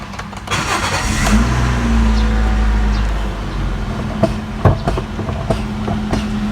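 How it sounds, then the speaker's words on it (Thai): A Toyota Yaris 1.2 engine, with a failed wheel bearing, cranks briefly and catches, settling into a steady idle hum, followed by a few sharp clicks and knocks. "เดี๋ยวเราจะทำการสตาร์ทเครื่องยนต์ครั"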